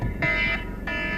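A fire alarm buzzes loud and harsh, close by in a building. It gives two long electronic blasts with a short gap between them.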